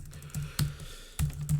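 Computer keyboard typing, a few crisp, quiet keystrokes tapped close by in an irregular rhythm.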